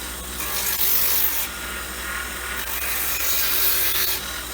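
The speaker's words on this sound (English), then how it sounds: "Okay, so we're grinding the orthotic slide." A grinder works steadily along the edge of an orthotic slide, giving a continuous, loud abrasive rasp that swells and eases slightly as the piece is moved against it.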